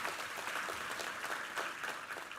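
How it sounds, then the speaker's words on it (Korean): A church congregation claps together after a Bible reading at a sermon: a steady, dense wash of many hands with sharp individual claps, sustained throughout and with no voices over it. "우리 하나님께 감사의 영광의 박수를 올려드리겠습니다"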